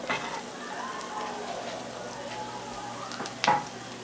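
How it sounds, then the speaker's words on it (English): Chicken pieces frying on low heat in a pan, a soft, steady crackle and sizzle with a sharper pop near the end. "Now I still have my chicken in the frying pan."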